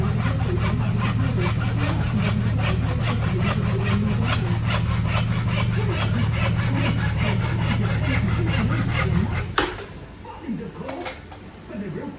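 A hand saw cuts off a piece of wood with fast, regular rasping strokes for about nine seconds, close and loud, then stops, followed by a few knocks and light handling sounds.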